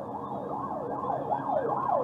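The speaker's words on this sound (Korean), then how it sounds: "그럼네, 앰뷸런스 뛰어오네." An ambulance siren wails in steady rising and falling sweeps on a road, heard from inside a car.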